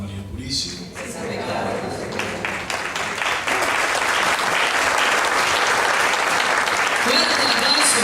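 Congregation at a church retreat applauding together, a dense, steady wash of clapping that swells and stays loud after a brief spoken lead-in.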